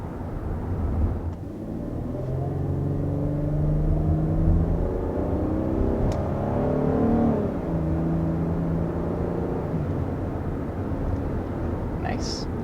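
A 2022 Kia Carnival SX's V6 engine accelerates smoothly, its rising hum climbing in pitch through gear changes as a steady rumble inside the cabin, with a voice talking over it.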